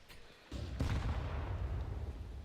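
A grenade goes off in Counter-Strike 2, a deep booming blast that follows a short quiet lead-in and rumbles on as gunfire-like noise for the rest of the moment.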